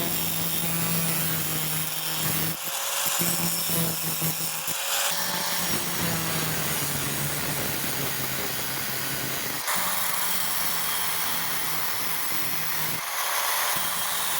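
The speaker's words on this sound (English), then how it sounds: "So we're going to cut this bracket out." A power tool cuts out a metal bracket on a homemade tractor grapple for a Kubota B2601, giving a loud, continuous grinding whine with brief pauses and restarts and no voices.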